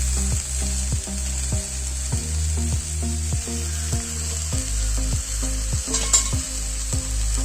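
Grated onion and green chili paste frying in a pan, a steady sizzle with regular scraping stir strokes roughly every half second over a low hum, close and continuous.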